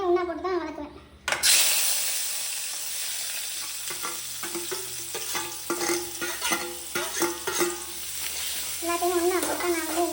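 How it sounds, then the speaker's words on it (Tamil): Onion, tomato, green chilli and curry leaves are stirred into hot oil for a fish curry, bursting into a loud sizzle after a sudden drop into the pan, with spatula scrapes and a voice speaking over the frying. "எல்லாத்தையும் ஒன்றா போட்டு நான் வந்து மிக்ஸ் பண்ணி நல்லா வதக்கலாம்"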